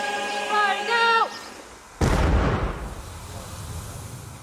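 Royal Marines weapon firing in a combat zone: one sharp, loud blast that rolls off into a long decaying rumble, preceded by a brief tonal sound and voices.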